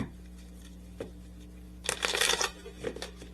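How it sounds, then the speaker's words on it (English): Tarot cards being shuffled by hand, a brief riffling burst after a few soft taps, close and fairly quiet against a low hum. "Let's just clarify one more time using some tarot cards."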